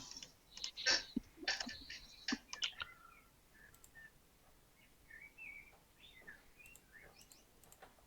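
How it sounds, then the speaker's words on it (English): Small birds chirp and tweet faintly in the background, with scattered short calls mixed with keyboard-like clicking in a quiet room. "Who has birds?"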